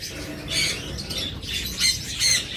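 A caged creamino lovebird pair lets out harsh, grating squawks, several rough calls in quick bursts, loud and close with no voices.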